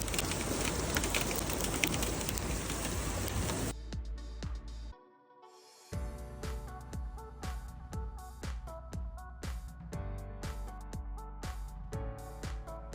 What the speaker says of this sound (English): it is literally hailing on us